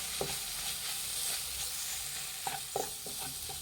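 Tomato masala with garam masala and coriander powder frying in a pan on low flame for Punjabi bhindi masala, a soft steady sizzle with a few sharp spoon scrapes and stirring clinks near the end.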